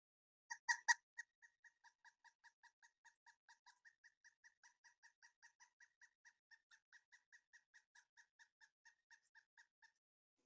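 A bird gives a long, distinct clucking call like laughter: a few louder opening notes, then a steady run of about thirty evenly spaced clucks that fade slightly, heard alone and fairly faint.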